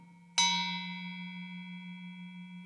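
The low bottom note of a Balinese gamelan metallophone struck over a faint ringing tone, sustaining with a gentle wavering beat as it slowly decays, alone and close.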